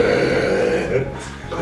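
A person burps loudly and close by, one drawn-out, low, croaky belch that fades into quieter background noise.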